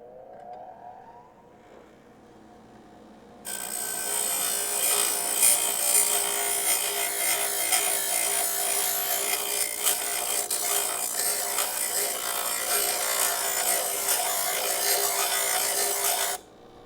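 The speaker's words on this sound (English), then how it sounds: "that was a very liberal application of the bench grinder" A bench grinder grinds down a steel car suspension part, a harsh, steady, loud rasping whine that starts abruptly and runs continuously for about thirteen seconds before cutting off, heard alone up close.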